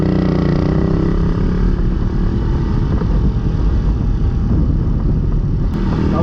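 A Suzuki Raider 150 motorcycle engine running hard after a twist of the throttle, a loud, constant close-up roar that holds steady throughout, with no voices.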